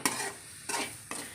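Shallots and curry leaves frying in coconut oil, a steady close sizzle broken by three scraping stirs of the spoon in the pan, with no talking.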